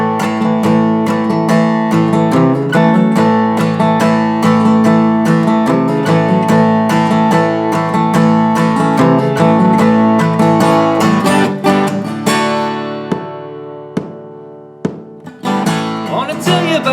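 A song's intro played on guitar, full strummed chords ringing loud and continuous, then thinning near the end into a few sparse plucked notes.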